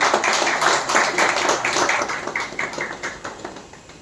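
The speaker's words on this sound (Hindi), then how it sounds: "जोरदार तालियों के साथ मिलकर स्वागत" An audience at a product launch event in a Delhi hotel applauds to welcome a guest, with loud, close clapping in a quick, slightly uneven rhythm that gradually thins and softens toward the end.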